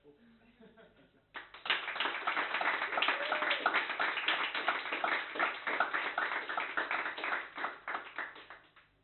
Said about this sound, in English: So the paper should give an applause just for that.